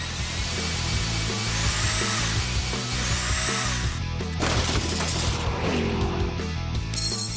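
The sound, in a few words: power drill whirring, cartoon robot fight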